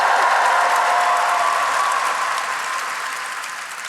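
Fan convention panel audience applauding and cheering at a Boston fan expo, a dense sustained wash of clapping and whoops that stays loud throughout, tapering slightly toward the end, with no talk over it.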